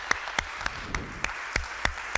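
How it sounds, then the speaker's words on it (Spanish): A church congregation claps in a steady, slightly uneven rhythm, about eight sharp claps over two seconds, close and clear with no talking. "Creo que Dios merece un aplauso,"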